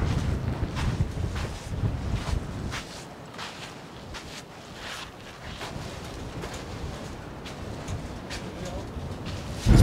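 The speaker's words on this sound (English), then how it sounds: "It's pretty windy out here" Strong wind in Iceland buffeting the microphone, a steady roaring rumble with gusty swells throughout, loud and close.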